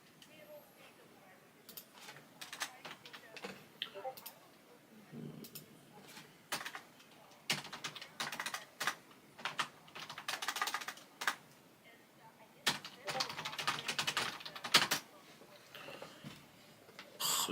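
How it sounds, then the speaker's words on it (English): Fingers tap on a computer keyboard in uneven bursts of close, crisp clicks, with pauses between runs of keystrokes. "I'm not a big fan of this fucking keyboard."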